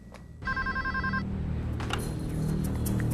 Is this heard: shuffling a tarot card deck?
no